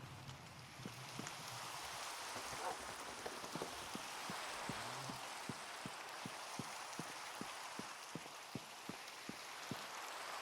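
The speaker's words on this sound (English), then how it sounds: "It is a very rainy day today," Steady rain falling in Minecraft, a soft continuous hiss with regular, evenly spaced drip-like taps running throughout, gentle and close.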